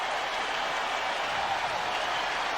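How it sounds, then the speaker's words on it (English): Steady stadium crowd noise inside the Louisiana Superdome during a 1983 49ers versus Saints football game, a dense, continuous wash of distant voices and roar with no clear breaks. "And now the crowd has turned up several notches here at the Superdome"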